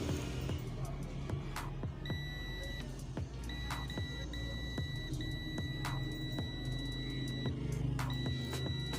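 A digital multimeter set to buzzer mode, used to check a Samsung J6 charging circuit, gives several steady high-pitched beeps of varying length, some sustained for seconds, over a constant hum with a voice faintly underneath.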